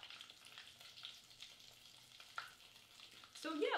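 Rice balls with mozzarella centers frying in oil, a continuous close sizzle with crackling bursts that swells louder near the end, heard alone without talk.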